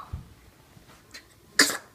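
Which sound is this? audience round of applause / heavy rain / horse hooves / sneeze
sneeze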